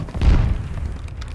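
Rocket explosion in the military shooter Squad: a single deep boom swells early and rolls off into a low rumble, heard alone.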